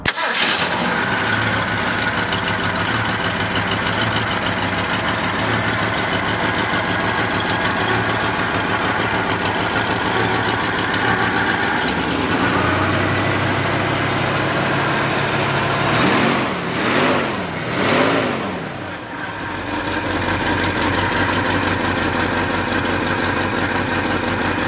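A 1965 Ford Ranchero engine starts and settles into a steady, continuous idle, heard close and loud throughout, with a brief wavering change in tone near the end.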